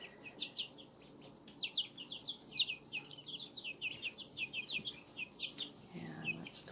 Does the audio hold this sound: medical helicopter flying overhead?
no